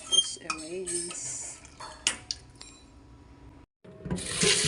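Meat rinsed with water in a metal pot makes clattering and scraping against the pot, with splashes and short runs of water, close and uneven.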